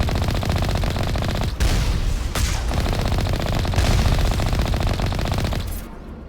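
Gun turrets in the video game Mass Effect fire loud, sustained rapid bursts, a dense rattling stream broken by a couple of brief gaps before fading out at the end.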